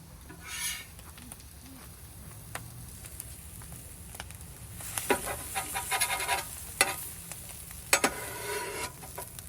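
Bacon frying in a pan, a soft steady sizzle with scattered crackles and spatters that grow busier toward the end, moderately close and with no talking.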